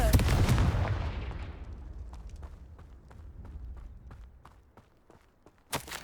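A loud magical blast from the Confringo spell in Hogwarts Legacy booms and fades out over a few seconds, followed by faint scattered footsteps and a sharp burst near the end.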